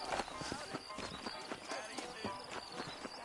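Horse hooves clip-clop at a steady walking pace in a Western-style video game set in New York, close and crisp, with an occasional snort or whinny under the rhythmic beats.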